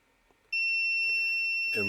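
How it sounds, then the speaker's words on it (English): A multimeter gives a steady electronic continuity beep while probing an inductor near the 9-volt test point of a guitar overdrive pedal; the tone starts abruptly and holds loud and close, with a brief rustle at the end. "if we have continuity"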